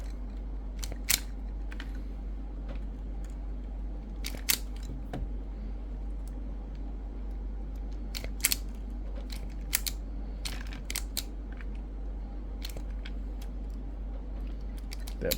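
Wire strippers snip and pull insulation off the ends of small toy train wires during a Thomas & Friends TOMY James engine repair, giving sharp isolated clicks and snips spaced every second or two over a steady low hum.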